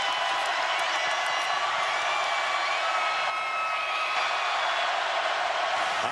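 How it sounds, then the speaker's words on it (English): Stadium crowd at a college football game, Oklahoma at Tennessee, roaring in a sustained dense wall of noise that stays loud and steady throughout. "now the crowd in a frenzy"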